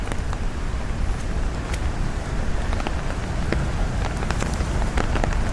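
Rain patters on a night street in Manila, a steady dense hiss with scattered sharper drops and faint passing traffic underneath, no voices.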